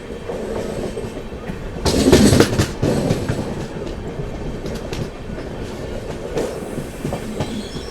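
Jan Shatabdi Express passenger train running on tracks between Vijayawada and Chennai, a steady close rumble with rhythmic clickety-clack of wheels, swelling louder for a moment midway before settling back into continuous travel noise.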